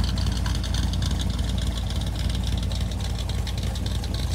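A 1957 Chevrolet Bel Air with automatic transmission runs on a test drive, its engine a steady, loud, low rumble with constant road and cabin noise and no break.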